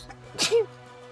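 A single small, sharp sneeze, quick and close, with a brief high burst and a squeaky tail, from a kitten, over faint room hum.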